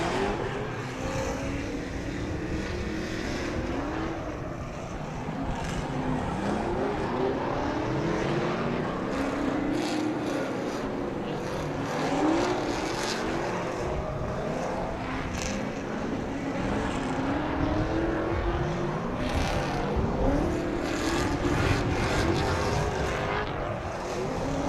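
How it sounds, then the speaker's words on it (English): Drift cars, including a 400-horsepower Nissan 370Z, warm their tires on the track at Las Vegas Motor Speedway, a continuous loud roar of revving engines rising and falling with overlapping passes for the whole stretch. "as we get Jeff Jones and Blaze Pott out on the track to warm up their tires"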